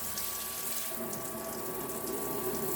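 A portable rechargeable camp shower sprays a steady stream of water into a sink. The hiss and splash are close and continuous, with a faint pump whine underneath and no talking.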